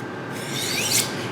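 A knife blade is drawn along a sharpening steel in a single smooth, rasping stroke that rises into a bright metallic ring near its end, close and steady with no voices.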